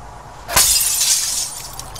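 Glass shatters in a video game: one sharp, bright crash followed by a tinkling scatter of shards that fades over about a second.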